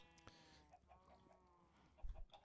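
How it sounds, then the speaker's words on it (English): Chickens cluck softly in short, scattered calls in Minecraft, faint and slightly distant, with no one talking over them. "Hearing some chickens."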